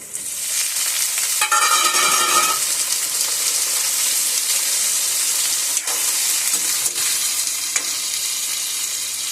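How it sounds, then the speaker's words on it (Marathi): Brinjal and potato pieces drop into a pan of onions fried until red, setting off a loud, steady sizzle that flares as they land, with stirring scrapes and occasional clinks. "आता आपण याच्यामध्ये टाकूयात वांग आणि बटाटा धुवून घेतलं होतं ते टाकूयात."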